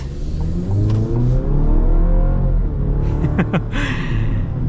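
A 2023 Chevrolet pickup truck engine revs up hard and roars as it accelerates, the pitch climbing steadily, then a brief burst of higher mechanical noise near the end.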